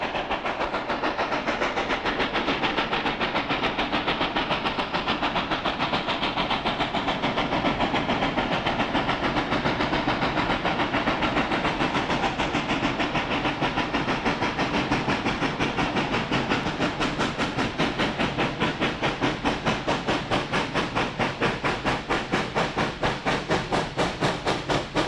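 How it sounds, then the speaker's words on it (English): A steam locomotive chuffs steadily with a rapid rhythmic beat over a constant hiss, loud and close, with no voices. "15 of the biggest steam locomotives perform like you've never imagined. Just listen to the sound of these mighty engines."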